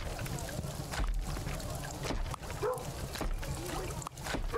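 A dog in the video game Kingdom: Two Crowns gives several short barks over a busy game background, with people talking throughout.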